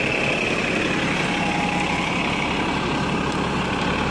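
A double-decker bus idles on a busy Hong Kong street, a steady low engine rumble with a dense broadband hiss of traffic and city noise around it, continuous and close with no voices.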